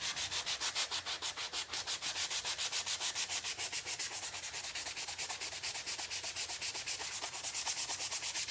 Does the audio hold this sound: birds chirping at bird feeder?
no